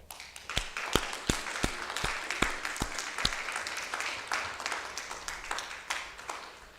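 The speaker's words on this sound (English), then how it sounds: "I ask you to join me in a round of applause." An audience at an arts center in Bucksport, Maine, applauds their guests. A few loud nearby claps sound over a steady spread of many hands, fairly faint overall and ending without talk.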